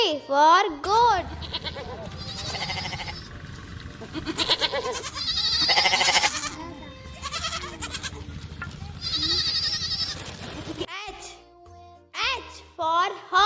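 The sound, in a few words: goat bleating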